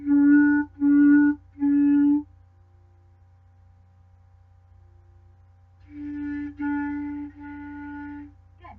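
Clarinet playing three short separated tongued notes, then a pause, then three more tongued notes at a lower pitch, close and clear in a quiet room.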